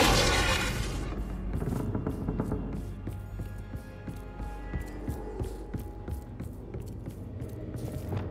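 Explosive spells detonating in the game Hogwarts Legacy, with a big opening blast that decays into a long rumble. Scattered sharp thumps and pops follow at an irregular pace.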